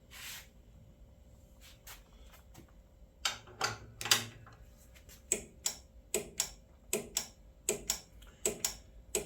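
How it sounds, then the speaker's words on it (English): ICON 1/2-inch drive split beam torque wrench set to 40 foot-pounds gives a run of sharp, fairly quiet clicks, sparse at first and then settling into a regular ratcheting rhythm, close up with no talk. "The click isn't quite as loud, but this is a very nice torque wrench in comparison."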